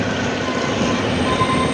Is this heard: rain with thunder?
no